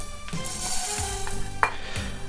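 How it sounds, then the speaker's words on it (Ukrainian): Vermicelli poured into hot oil in a pan for rice with vermicelli, crackling into a steady close sizzle marked by a few sharp scrapes and taps of stirring. "Цю олію висипаю вермішель."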